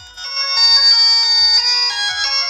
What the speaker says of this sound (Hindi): तो देखिए यहाँ पर रिंगटोन का जो आवाज़ है बढ़ गया है हमारे फ़ोन में